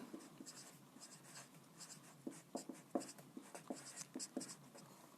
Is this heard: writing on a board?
yes